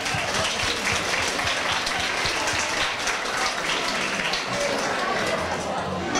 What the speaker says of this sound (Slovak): Cena je odovzdaná, zatleskajme výhercovi ešte raz.